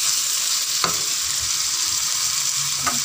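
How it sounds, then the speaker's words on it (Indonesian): Beef frying in a pan with coarsely ground black pepper, a loud, steady close sizzle with a couple of brief stirring clanks, no talk. "kayaknya udah mulai masak dagingnya"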